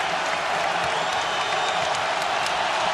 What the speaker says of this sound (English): Crowd back in it.